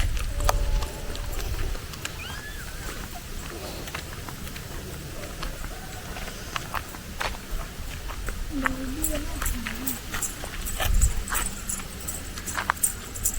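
Cows are driven out to grazing land, their hooves clopping irregularly on the ground while people talk nearby and a dog whimpers faintly now and then.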